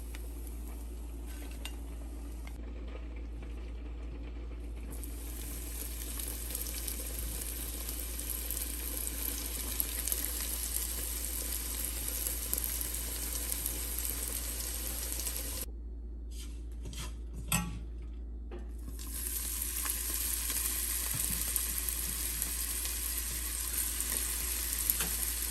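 Bitter gourd slices sizzle steadily in hot oil in a pan, a dense continuous frying hiss with occasional clinks of a utensil against the pan, close and even throughout.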